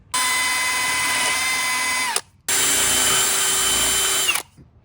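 A power drill bores into wood during a dining table build, a loud, steady high-pitched whine running for about two seconds, a brief pause, then a second equally long run that winds down at the end.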